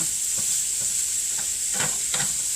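Vegetables are stirred in a pan above roasting salmon, giving a steady hiss with several soft scraping strokes close by, no talking.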